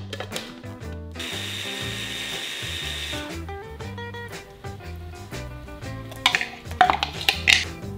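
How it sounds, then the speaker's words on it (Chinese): A blender grinds lemongrass with a pork chop marinade of oyster sauce, fish sauce, pepper, garlic powder and oil, a steady buzzing whir that cuts out and restarts in short pulses, ending with scattered clinks and taps. "搅匀咗之后就倒落个香茅，然后一齐打碎啦。"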